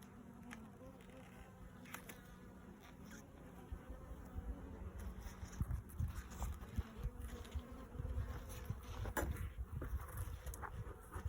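Honey bees buzzing around an open hive during an inspection, a dense steady hum close by, punctuated by soft knocks and handling of frames, with no talk.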